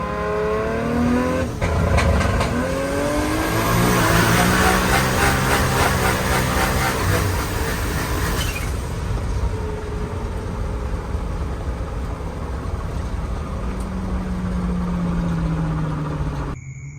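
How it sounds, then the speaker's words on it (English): A 2JZ-swapped Toyota AE86 with anti-lag revs hard from inside the cabin on a bumpy road. The loud engine note climbs and then drops off into a rough, fluttering idle, with no speech. "Quick little anti-lag action since we don't have my nitrous installed"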